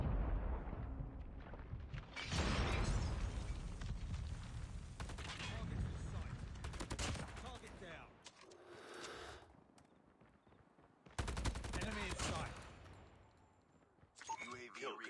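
Rapid bursts of gunfire and explosions from the mobile shooter game Call of Duty: Mobile, loud and close, coming in dense volleys separated by brief lulls, with a voice talking amid the shooting.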